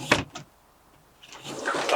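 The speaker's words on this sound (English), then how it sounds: "you have a door here, which just opens and closes" A camper van door thuds open and then swings shut with a rattling, sliding clunk, close and fairly loud, with a quiet pause between the two sounds.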